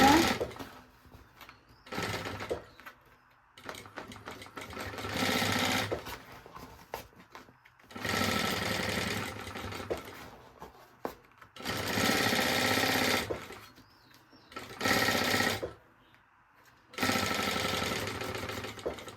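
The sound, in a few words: sewing machine stitching fabric lining with backstitch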